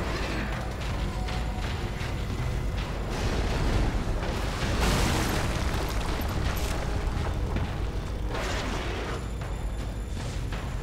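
Explosions in the horror game The Evil Within, a sustained rumbling roar with several heavier bursts swelling midway, mixed with mechanical clatter and no talking.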